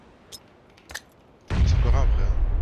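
Gunfire in the battle royale game PUBG comes as a few faint distant shots, then one sudden loud close burst that keeps roaring and echoing through the end.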